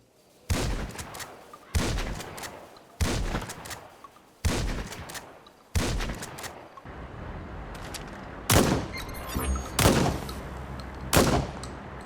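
Gunfire from guns in GTA 5 and Watch Dogs: Legion: a series of loud, close single shots and short bursts with sharp reports, spaced about a second apart, then quicker volleys near the end.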